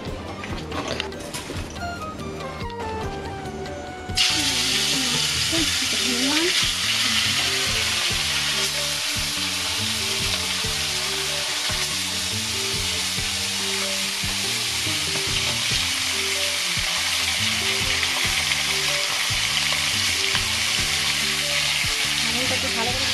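Food frying in hot oil in a rural Bengali kitchen in Assam, starting with scattered stirring and clatter before a loud, continuous sizzle bursts in and carries on steadily to the end.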